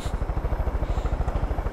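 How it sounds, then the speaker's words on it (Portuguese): Helicopter rotor thumps fast and steadily in Far Cry 5, a loud, close, even chop throughout the short stretch, with no talking. "Enfim, agora eu tô com um helicóptero e aqui,"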